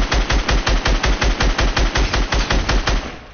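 Rapid automatic gunfire from a Fortnite match, about twenty evenly spaced loud shots in a steady burst that stops abruptly, leaving a short fading tail.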